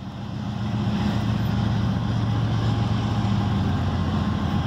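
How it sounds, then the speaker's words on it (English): A GE Dash 8 diesel locomotive on a CSX train throttling up, a steady low engine rumble and drone that holds at a constant level, heard at moderate distance with no talk. "He's got a dash 8. It's throttling it."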